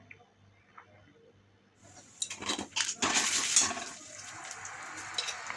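Spices and ginger paste stirred in a hot pan with cinnamon and cloves for a Bengali cauliflower roast; a quiet start gives way to loud sizzling and scraping clatter that settles into a steady fry.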